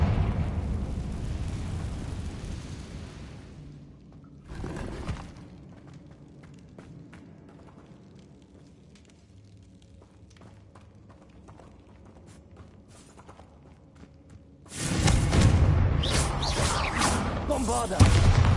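A Confringo fire spell goes off in Hogwarts Legacy: a sharp burst near 4.7 seconds, then a loud, sustained blast with crackling roar from about 15 seconds to the end, with quiet rumbling and creaks between.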